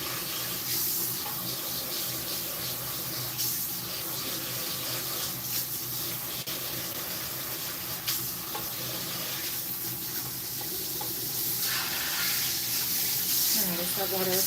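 Tap water runs steadily during a hair-washing cleanse at a salon sink, a continuous splashing hiss under occasional talk.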